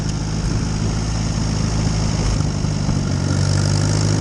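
An Allis Chalmers WD45 tractor engine runs in fourth gear with a steady, loud, close chugging drone and a constant low rumble throughout, with no talking.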